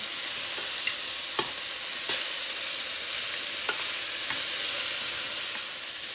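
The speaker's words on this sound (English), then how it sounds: "After it's had a chance to sizzle on the other side for just a minute" Steady sizzling of beef pieces frying in a hot pan, a constant hiss with occasional soft pops and clicks, close and moderately loud.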